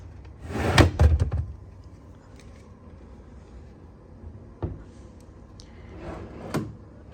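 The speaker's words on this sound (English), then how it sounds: "Drawer" A drawer in a hotel guest room at a DoubleTree by Hilton in Kuala Lumpur slides and knocks shut, with a loud cluster of thuds early on, then a single sharp clunk and a softer knock later, close by in a quiet room.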